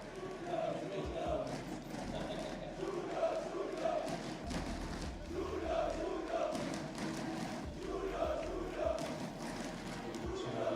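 Esports arena crowd at Rainbow Six Pro League Finals, a dense roaring and cheering mass of voices that stays loud and steady throughout, with scattered shouts rising above the noise.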